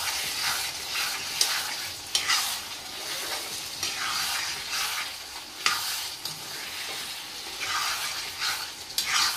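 Local chicken fried and stirred in a pan: a constant sizzle and hiss broken by repeated scraping strokes of the spoon against the pan at an irregular, unhurried pace, close and with no talking.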